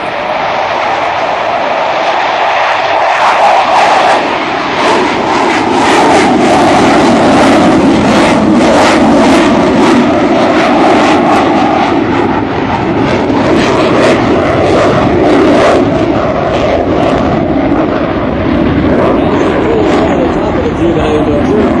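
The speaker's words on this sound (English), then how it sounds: "Ladies and gentlemen, the United States Navy FA-18F Super Hornet." A US Navy F/A-18F Super Hornet jet roars overhead at an air show, a loud, sustained, broadband engine rumble and hiss that swells and holds for about twenty seconds.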